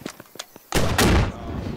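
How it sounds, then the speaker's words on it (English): A pistol shot in the tactical shooter game Squad, loud and close, a sharp blast followed by a second heavier report with a short rumbling tail, after faint quiet taps. "A pistol shot doesn't kill, does it?"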